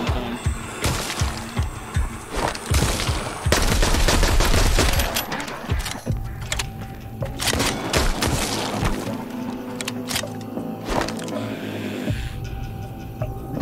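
Guns blaze in the video game Arizona Sunshine as close, loud shots ring out, spaced at first, then bunched into rapid automatic bursts with crashing impacts, and later tapering into scattered firing.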